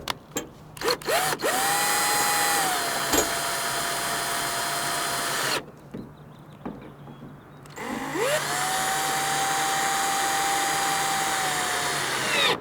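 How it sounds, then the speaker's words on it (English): Power drill driving screws into a lock fitted on a pickup truck bed, two long whining bursts with a spin-up pitch rise, separated by a short pause, close and loud. "I'm going to take my drill and I'm going to tighten up the screws right here real quick"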